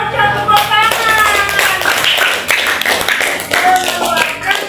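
A classroom of students applauds together, a dense burst of hand clapping that swells and fades, mixed with a teacher's voice speaking over it.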